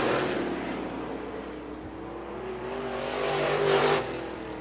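Race cars at a speedway run down the front straightaway in a heat race, a blurred engine roar swelling toward a louder pass near the end, fairly distant and without talk.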